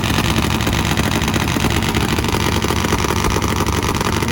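Top Fuel nitro V-twin drag motorcycle at a drag strip, its engine roaring loud and steady at close range throughout, a dense rough mechanical blare with no speech.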